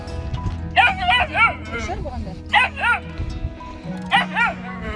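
Puppies yip and bark in a farmyard, sharp high yelps in short clusters close by, mixed with a whimper and heard under a person talking.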